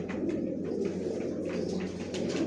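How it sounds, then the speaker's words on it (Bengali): Racing pigeons of a long-distance line coo in a loft, a low soft rolling cooing repeated steadily, close and moderately quiet, with faint chirps and bird calls in the background. "জনসন লাইনের সব লংয়ের কবুতর পালি"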